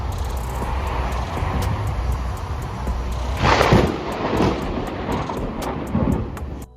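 A sharp, loud crack of thunder from a nearby lightning strike bursts out amid steady wind and rumbling noise, with no rain, followed by rolling booms that fade over several seconds.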